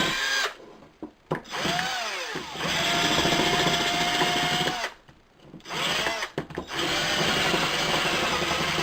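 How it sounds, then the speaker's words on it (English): A power drill with a 3/8 inch bit runs in several bursts with rising and falling motor whine, separated by short pauses and some rough grinding as it bores a hole through material. "Now, I'm going to want at least 3/8 inch drill bit and drill a hole"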